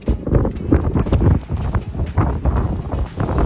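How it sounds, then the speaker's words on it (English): Strong wind in the port city of Beira pounds the microphone with heavy, uneven low rumbling gusts that stay close and loud throughout, with no speech. "All right, so it's a lot windy today."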